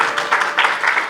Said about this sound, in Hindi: तालियों का स्वागत करते हैं